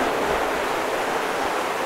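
Water splashes heavily as someone jumps in to swim at an outdoor swimming spot in January, a dense continuous wash of broadband splash and churn at close range, with no talk.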